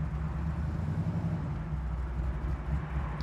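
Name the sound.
1968 Chevrolet Camaro SS engine idling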